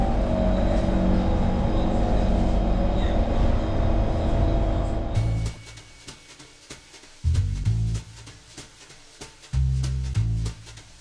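A Singapore metro train ride starts with a loud, rumbling cabin roar, then drops to quieter running with clicks and bursts of low mechanical whine as the train rolls along.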